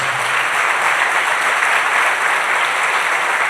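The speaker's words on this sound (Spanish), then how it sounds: "¿Por qué no le dan un aplauso a Dios por su provisión?" A church congregation applauds together in a loud, dense, continuous burst of clapping that fills the room evenly from start to end.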